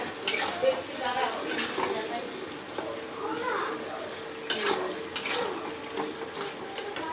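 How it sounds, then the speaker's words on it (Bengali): Spice paste with potatoes frying in oil in a pot, a soft sizzle under scraping stirs and occasional clinks of the spoon against the pan. "মশলাটাকে ভালো করে কষাতে হবে যতক্ষণ না মশলাটার থেকে তেল বেরিয়ে আসছে।"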